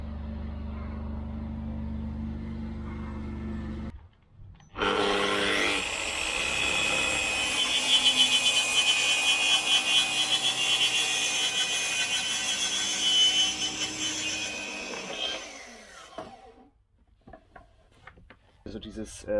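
A track saw runs along a guide rail slicing through wood panels, a loud continuous whining cut lasting about ten seconds before the motor spins down and stops.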